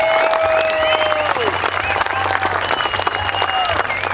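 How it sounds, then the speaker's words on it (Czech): Applause and crowd noise at an outdoor dragon boat race award ceremony, with steady clapping under an announcer's amplified voice and a few whistles or calls rising above the crowd. "ještě jednou velký potlesk"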